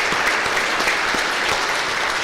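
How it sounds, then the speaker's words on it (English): Steady audience applause fills the hall at a panel talk, a dense, even patter of many hands clapping throughout, fairly close and with no voices over it. "can we get another round of applause for her?"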